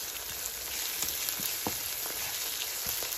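Onions browning in a pan for chicken biryani give off a steady, close sizzle, with a few soft clicks and taps from stirring scattered through it and no voices.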